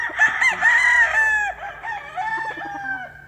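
A green-legged rooster crows loudly and close by in one long drawn-out call that tapers off, with faint clucking from other chickens around it.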